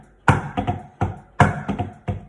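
Snare drum paradiddle rhythm played with both hands together, sharp crisp strokes in a steady repeating pattern of accented and lighter hits, close and loud with no talking.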